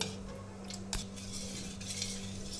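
A spoon stirs a thick Bombay Karachi halwa mixture round a bowl, giving soft steady scraping with one sharper clink near the start, close and fairly quiet, no talk.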